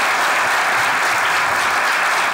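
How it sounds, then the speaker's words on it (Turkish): Studio audience at a Turkish comedy sketch show bursts into dense, steady applause, loud and close, filling the short stretch without pause or voices. "Ya, ya bir alkışlıyor kardeşim"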